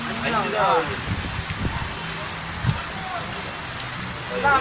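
Steady rain hisses throughout, with a constant wash of drops and occasional voices speaking over it.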